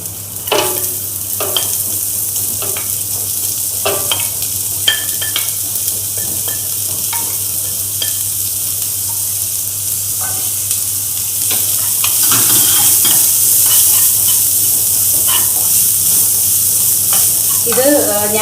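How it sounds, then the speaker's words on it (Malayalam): Onions fry and are stirred in a pan for poha, a steady sizzle broken by repeated clicks and scrapes of the spoon, growing louder toward the end. "ഇനി നമുക്ക് സവാള ഇട്ട് കൊടുക്കാം."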